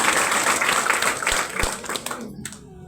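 An audience breaks into dense clapping for a guest speaker, holding steady before tapering off sharply near the end.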